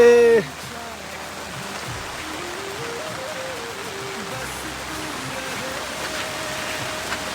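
Heavy rain pours at night during a stormy kanwar pilgrimage walk, a steady dense hiss throughout, with a tonal voice-like sound briefly at the start and faint murmurs underneath.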